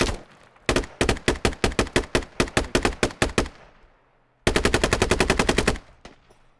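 Automatic gunfire in the tactical shooter game Squad: two long bursts of rapid, evenly spaced shots, loud and close, separated by a brief pause, with no talking over them.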